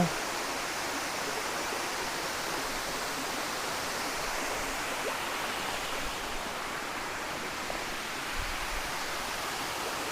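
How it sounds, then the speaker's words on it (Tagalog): Maticdum Busay waterfall in Tandag City, Philippines, a steady broadband roar of falling water that holds even and continuous throughout, with no talking. "Maganda yung falls, yung pinaka-unang falls."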